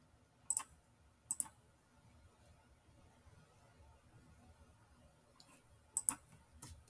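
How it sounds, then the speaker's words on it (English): Sharp mouse clicks on a login button, three quick taps at intervals, each a crisp close click over a quiet room hum. "I will next click on login button"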